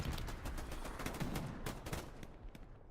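Gunfire in a competitive Hell Let Loose match at the Utah Beach chapel, a continuous dense crackle of rifle and machine-gun shots, loud and sustained throughout with no talk.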